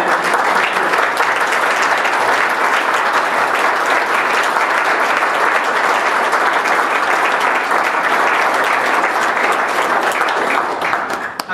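Audience applause for a team honored at a Focus on the Family Canada event, a sustained loud burst of clapping from a large crowd that stays dense and even for over ten seconds.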